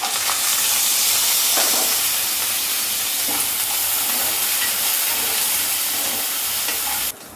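Ginger, curry leaves and grated coconut sizzle and fry steadily in oil while tempering in a pan, a continuous close hiss with occasional stirring clinks, no talking, ending abruptly.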